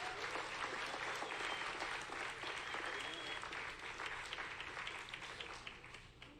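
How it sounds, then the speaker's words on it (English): Seated audience of seniors applauding for a candidate at a campaign talk in Waterloo, Iowa; a dense, steady round of clapping that holds strong throughout and starts to thin out near the end. "I think that should get a little round of applause"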